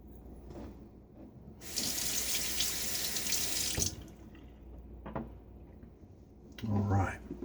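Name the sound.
water tap running for rinsing while shaving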